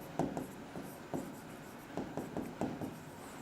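Marker or chalk writes on a board during a finance lecture, a few short scratchy strokes spaced irregularly, moderately close and fairly quiet against a faint room hum.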